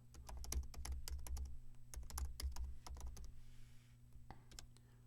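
Computer keyboard keys tapped in quick irregular bursts while an artboard is renamed in Adobe XD, close and fairly soft, with a short pause and a final few clicks near the end.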